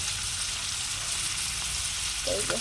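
Small fish frying in hot oil dusted with dry chili powder, a steady close sizzle throughout with a brief stir or clatter near the end.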